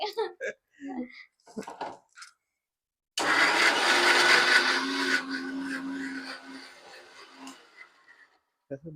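A mixer grinder grinds a paste in a home kitchen, starting abruptly as a loud, steady whir for about two seconds, then running lower and dropping away, with people talking briefly before it starts.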